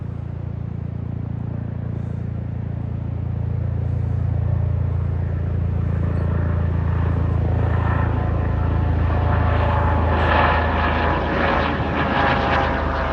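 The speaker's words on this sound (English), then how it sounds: "helicopters make me happy. I hear them." An MH-65 helicopter passes overhead, a deep rotor and engine rumble that swells and grows louder and brighter as it nears, steady and continuous, with no voices heard.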